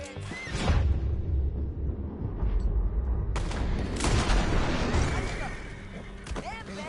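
Gunfire rings out during a video game cutscene, a loud burst of shots and crashing impacts that fades, then a second volley erupts, with voices speaking around it.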